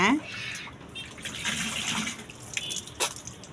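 Water pours and splashes indoors, a steady running wash with a brief sharper spill near the end, while a voice briefly sounds over it.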